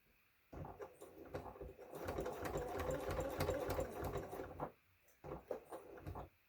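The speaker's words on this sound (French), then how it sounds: "Et on va coudre en suivant le trait." A domestic sewing machine stitches a round bag made from placemats. It starts with a brief whir, then runs steadily at a fairly quiet level for about four seconds, and finishes with a few short bursts of stitching.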